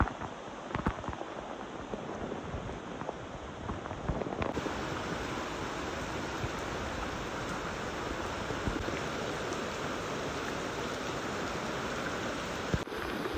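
Steady, dense rain hisses continuously over a coconut grove for the whole stretch, broadband and even, with no voices over it.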